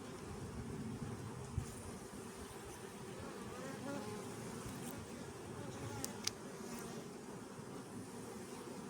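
Honeybees buzz steadily in an opened hive during an autumn colony split, a dense continuous drone filling the whole stretch at moderate level, close and unbroken, with a few faint clicks but no talk.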